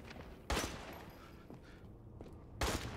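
Gunfire in the video game Resident Evil Village: two loud sharp shots about two seconds apart, each ringing off briefly over a quiet game background, with no speech.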